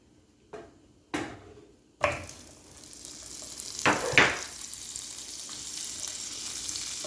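Butter dropped into hot cooked caramel in a pan bursts into a loud, steady sizzle after a few sharp clatters at the start, with brief louder spits partway through.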